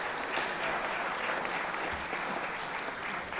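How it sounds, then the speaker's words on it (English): Legislators and guests in a state legislative chamber applaud in a steady, dense roomful of clapping lasting a few seconds at even loudness. "So let's give Megan Brass a round of applause."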